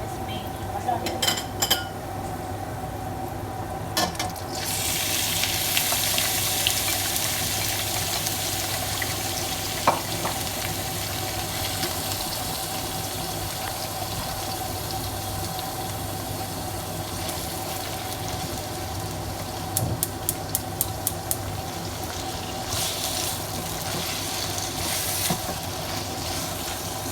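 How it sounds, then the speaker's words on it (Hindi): Minced meat hits a pan of lightly browned onion and starts frying with a steady broad sizzle, joined by occasional clinks of a utensil against the pan, sustained and close throughout. "अब हम इसमें कीमा डालेंगे।"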